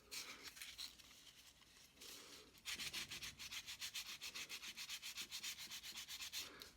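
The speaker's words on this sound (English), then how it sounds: "a lot of what happens to it next will be by using sandpaper, both on the tube and by hand." Carved wood is sanded by hand with sandpaper in quiet, rasping strokes, slow and uneven at first, then settling into a fast, steady back-and-forth rhythm, close and alone.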